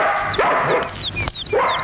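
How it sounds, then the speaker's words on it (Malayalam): Dog barking repeatedly in short, sharp bursts, fairly close and loud, with high-pitched bird chirps running through the background. "പിന്നെന്താ അത് കിടന്ന് കുരയ്ക്കുന്നേ?"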